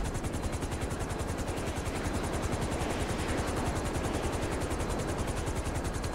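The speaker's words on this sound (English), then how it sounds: "There's a oppressor over here getting blown up by that jet." Rapid, steady thudding roar of a jet attacking an Oppressor in the video game GTA Online, a loud continuous rattling blast with no pauses or talk.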